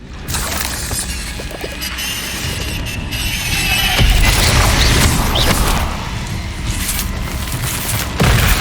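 Fire spell explosions from Confringo casts in Hogwarts Legacy, a dense run of booming blasts and crackling, shattering bursts that stays loud throughout with a sharp hit near the end.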